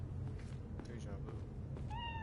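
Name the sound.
cat meowing in the video game Cyberpunk 2077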